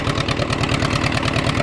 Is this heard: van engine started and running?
yes